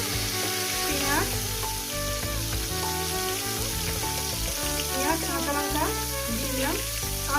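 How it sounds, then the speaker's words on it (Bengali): Pointed gourd with whole green chilli fries in a pan, a loud steady sizzle and crackle running throughout, close and continuous. "এবার এটাকে সুন্দর করে আমি ভেজে নিই মিনিমাম আরও চার পাঁচ মিনিট ধরে"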